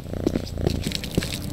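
A cat purring as it is petted in the video game Postal 4, a steady, close rumbling purr with soft rhythmic pulses, fairly loud, with no talking.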